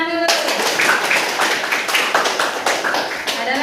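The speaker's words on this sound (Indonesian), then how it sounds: "bagus, tepuk tangan dulu" Students in a classroom break into a burst of dense, steady applause that carries on throughout, loud and close, with a brief voice at the start.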